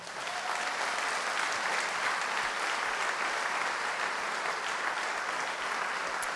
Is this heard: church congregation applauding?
yes